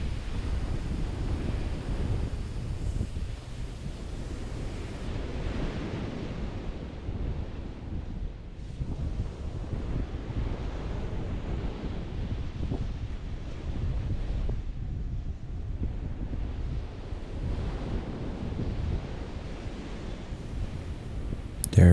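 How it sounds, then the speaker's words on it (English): Ocean waves on a beach at Cancun, Mexico, rolling in as a continuous, rushing wash of surf with swelling and receding surges, mixed with gusty wind buffeting the microphone, no voices heard. "Just hearing the sound of the wave behind me"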